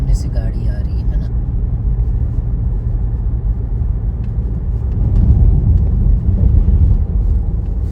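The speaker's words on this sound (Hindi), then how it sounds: "अभी वो सामने से गाड़ी आ रही है ना।" Car approaching on a congested road at night in the UK, between Northampton and Daventry, heard from inside a moving vehicle as a steady low engine and road rumble that swells slightly toward the end, with talk over it.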